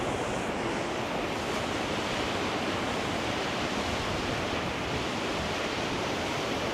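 Big ocean waves break and splash on a beach, a steady, loud wash of surf with wind noise on the microphone and no voices.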